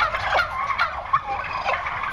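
Turkeys at a ranch in Sonora, California gobble in quick overlapping bursts, several rapid warbling calls from a flock close by, with a low farmyard hum underneath.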